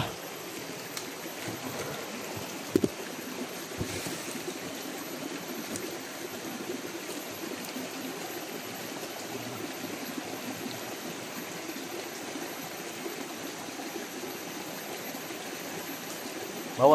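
A river flowing steadily as a broadband watery rush, close and continuous, with a couple of brief knocks partway through and no talking.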